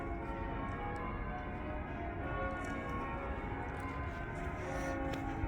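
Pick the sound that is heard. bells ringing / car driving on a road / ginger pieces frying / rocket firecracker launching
bells ringing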